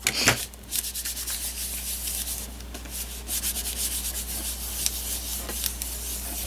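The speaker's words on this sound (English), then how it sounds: "So I'm going to rub that down." An adhesive embellishment is rubbed down onto a paper card with quiet, close, scratchy strokes that repeat unevenly and keep going with no voices.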